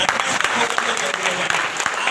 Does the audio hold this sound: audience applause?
yes